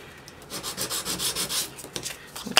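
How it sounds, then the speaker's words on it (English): Sandpaper rubbed back and forth along the edges of photos for a one-sheet mini album, giving a run of close, scratchy strokes in a steady rhythm with no talking. "You can use any old sandpaper that you've got in the house."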